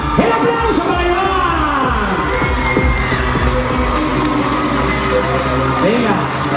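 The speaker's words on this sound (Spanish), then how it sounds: "¡El aplauso para Iván!" Carnival audience at a women-only show in Naolinco cheering and shouting for a performer, a dense, loud crowd roar with whoops, under an announcer's amplified voice.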